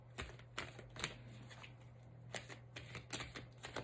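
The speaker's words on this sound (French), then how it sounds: "Alors, je vais battre les cartes." A deck of tarot cards being shuffled at close range, a quiet series of crisp riffling bursts and soft slaps in an irregular rhythm, with a low steady hum beneath and no talking.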